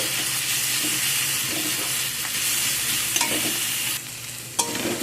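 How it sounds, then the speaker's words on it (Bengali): Onion and garlic paste frying together in oil in a pan, giving a steady, close sizzle with occasional stirring scrapes, with no talk. "দিয়ে পেঁয়াজ আর রসুন আবারও একসাথে ভেজে নেব।"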